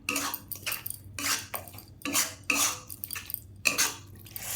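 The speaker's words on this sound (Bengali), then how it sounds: "তাই আমি সব কড়াইতেই খুন্তি দিয়ে সব করে নিচ্ছি" A metal spatula scrapes and clanks repeatedly against a wok while vegetables for a roasted aubergine and tomato dish are stirred, giving a steady run of close, bright scraping strokes with short pauses and no talk.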